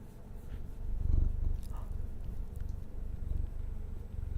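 A low, steady purr rumbles close by, continuous and soft throughout, with faint rustling and a small knock partway through.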